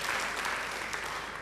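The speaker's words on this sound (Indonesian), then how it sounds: "Beri tepuk tangan yang baik buat dia." Congregation applause during a church sermon, a steady dense wash of clapping held at an even level throughout, with no talk over it.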